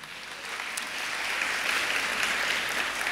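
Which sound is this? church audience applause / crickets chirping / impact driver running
church audience applause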